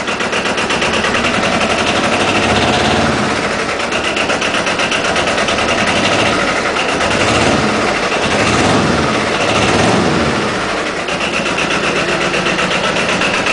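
An Arctic Cat ATV engine runs with one rear wheel spinning freely while the other stands still. It gives a loud, steady, buzzing drone with a rapid rattling pulse throughout, heard alone.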